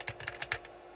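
A handful of quick, close keystrokes clatter on an Amiga 2000 keyboard that is not working well, then the typing stops.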